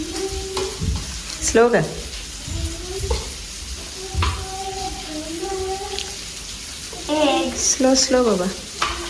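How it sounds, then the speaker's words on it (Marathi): Cooked vegetables and noodles stirred in a pan, with scraping and sizzling close by while people talk over it. "सगळी वेजिटेबल्स कूक केल्ली ऑलरेडी आतां मिक्स कोत्ते"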